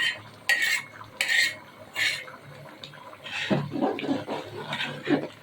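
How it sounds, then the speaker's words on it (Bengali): A spoon scraping and stirring quail egg khichuri in a pot, several close metallic scrapes followed by a softer, thicker sloshing stir of rice and eggs, no talking. "এখন আমরা ঢাকনাটা খুলে নাড়া দিয়ে দিব।"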